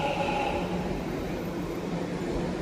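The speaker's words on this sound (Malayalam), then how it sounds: "നമ്മ മെട്രോ അടിപൊളിയായിട്ട് ഓടുന്നുണ്ട്" A Namma Metro train in Bangalore runs with a steady, loud rumble and rolling noise throughout, no talking.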